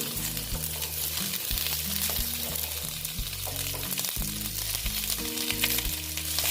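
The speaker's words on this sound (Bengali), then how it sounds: "আস্তে আস্তে করে পটলগুলোকে ভেজে দিচ্ছি" Pointed gourd pieces frying in oil with turmeric in a kadai, a steady close sizzle with broadband crackle throughout, backed by low background music and no talk.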